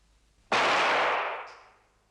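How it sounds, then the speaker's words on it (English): A single loud gunshot goes off close by after near silence, its blast decaying over about a second with a brief metallic tail. "Oh, he's just shot himself."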